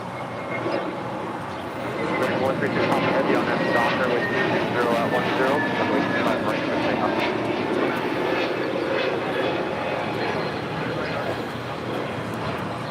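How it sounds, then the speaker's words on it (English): A JetBlue Airbus A321neo jet takes off at LAX bound for JFK, its engine roar building into a loud, steady broadband rumble after a quieter start and holding for the remainder, with faint voices underneath. "That was JetBlue 1124 taking off to JFK on an A321 Neo."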